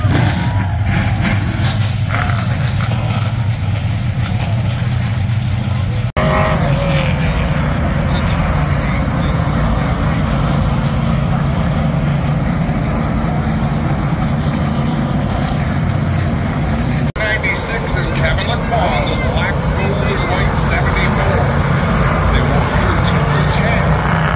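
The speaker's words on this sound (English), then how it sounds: "start your engines!" NASCAR Pinty's Series race car engines fire up and roar at Canadian Tire Motorsport Park in Bowmanville, a dense, continuous, loud rumble of many engines, with voices mixed in.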